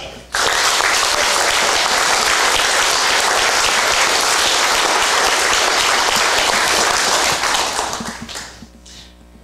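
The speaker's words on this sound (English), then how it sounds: "let's give a round of applause to Lauren Sadler" A crowd gives a round of applause for a student athlete at a Tinora National Letter of Intent recognition event. Loud, even clapping starts abruptly, holds steady for several seconds, then thins and fades near the end.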